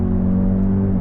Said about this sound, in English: you also hear the engine noise through the sound system